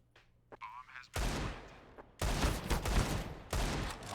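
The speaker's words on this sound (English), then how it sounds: "Not the shots that Nifty was hoping to take" Bursts of rapid gunfire from a Counter-Strike esports match, several loud volleys separated by brief pauses, with a caster's voice faintly underneath.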